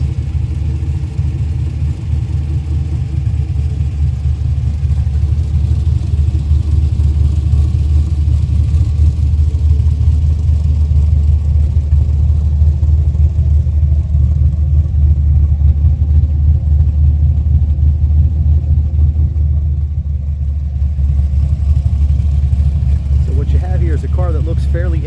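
A 1972 Chevy Nova with powder-coated Hooker headers, stainless exhaust pipe and dual stainless Hooker mufflers idles with a loud, deep, throbbing rumble close up, swelling slightly at moments and holding steady throughout.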